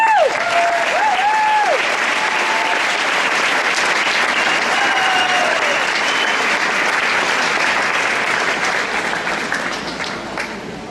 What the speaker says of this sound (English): Please give a big hand of applause to Jack Garahan.